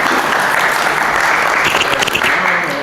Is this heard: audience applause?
yes